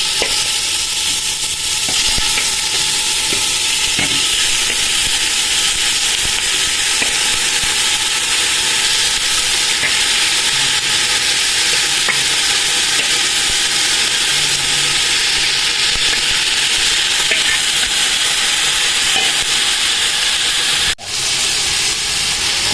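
Duck pieces sauté in a hot pan for adobo in coconut milk, a loud, steady sizzle and hiss with occasional stirring scrapes, close and continuous, with no talk.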